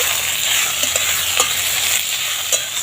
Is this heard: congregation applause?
no